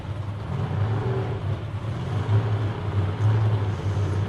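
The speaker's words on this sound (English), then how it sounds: "listen to these small blocks rev" Small-block race car engines at a track during Twilight Nationals 2021 qualifying, a steady, loud low drone with rising and falling revs, with no talk over it.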